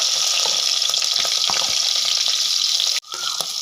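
Green chilies fry in hot oil for a Kerala-style crab roast, giving a dense, close sizzle with scattered crackles and pops that briefly cuts out near the end before resuming.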